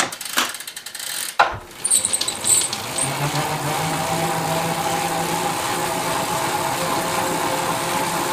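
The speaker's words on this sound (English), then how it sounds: "I'm going to try and ride this bike, which is my outdoor bike, on the roller so I don't have to change tires" Outdoor road bike ridden on indoor training rollers, a few knocks and clunks at the start as the rider mounts, then a steady continuous whirring hum of tires on the rolling drums that holds even and fairly loud to the end.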